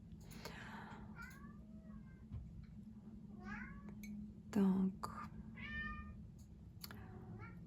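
Several cats meow in short rising calls scattered through the stretch, with one louder cry near the middle, over a steady low hum while someone talks throughout.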